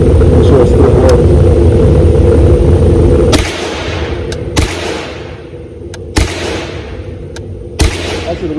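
AR rifle fitted with a CMMG Bravo .22 LR conversion kit firing outdoors, four sharp, spaced single shots with short echoing tails over a steady background rumble.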